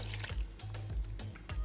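A cup of water poured into a pressure cooker holding spinach, heard as a few splashy gurgling bursts in an uneven rhythm, close and moderately loud with no talking.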